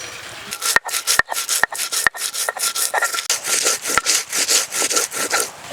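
Coriander and cumin are ground together with rapid, rhythmic back-and-forth scraping strokes, about twenty in a row, heard close up with no talk.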